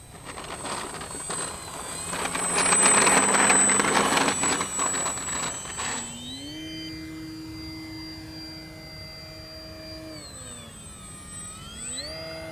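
An FMS 1220mm Ranger V2 RC model plane flies past, its electric motor whine swelling loud and broad over the first six seconds, then settling into a steady, clean tone that dips and rises in pitch as it banks overhead.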